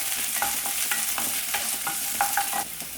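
Vegetables for hara bhara kabab are sautéed in a pan with a steady, close sizzle, while a spatula scrapes and stirs in repeated short strokes throughout; nobody speaks.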